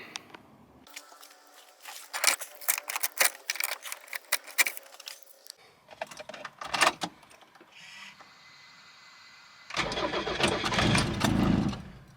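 A 1989 Nissan Pao with a four-cylinder engine is started: keys jangle and clicks come first, then the starter cranks in bursts, and the engine catches into a loud, steady idle at the end.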